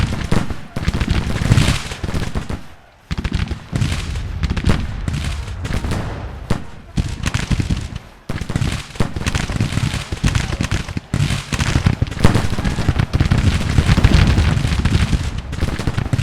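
Civil War battle in the video game Grand Tactician: The Civil War, with artillery booms and crackling rifle volleys firing in dense, irregular bursts that carry on loudly with short gaps.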